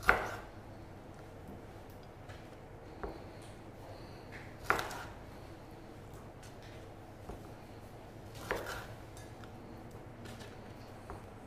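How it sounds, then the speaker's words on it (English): Knife strikes chopping the tips off chicken wings on a board in a kitchen: several sharp, separate chops spaced a few seconds apart over a quiet background. "So remove all of these wing tips."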